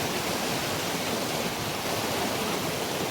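Steady broadband rush of the Shingoda river's flowing water, continuous and fairly loud throughout, close by with no clear voices over it.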